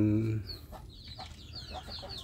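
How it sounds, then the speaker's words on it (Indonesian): Native free-range hens at their nesting spot give soft, short clucks and chirpy calls, with a brief louder tonal call at the start and quieter murmurs following close by. "ayam kampung saya yang ada di tempat mengerami"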